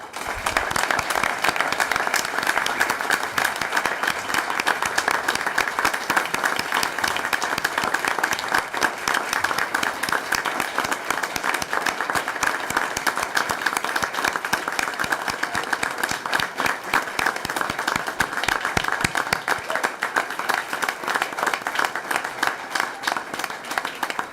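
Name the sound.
applause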